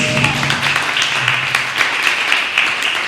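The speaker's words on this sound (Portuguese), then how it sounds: "Você pode aplaudir o Senhor Jesus?" A church congregation applauds during a sermon, a steady wash of many hands clapping at close range, with a brief voice at the start.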